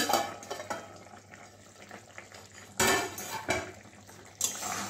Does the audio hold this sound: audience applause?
no